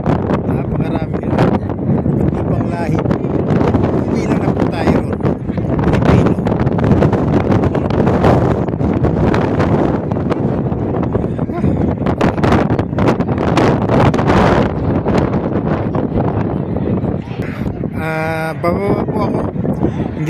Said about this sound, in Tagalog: hindi ko na po halos kayanin ang hampas ng hangin sa taas